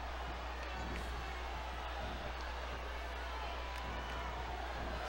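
A steady arena crowd roar fills a wrestling match in the video game SmackDown vs Raw 2008, a constant dense wash of cheering from a large audience without breaks.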